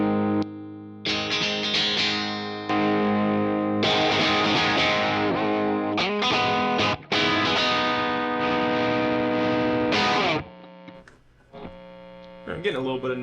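A single-coil electric guitar played through a StewMac Ghost Drive overdrive pedal, strummed chords and held notes with crunchy drive, loud and upfront, with pauses between phrases and faint amp hum in the gaps.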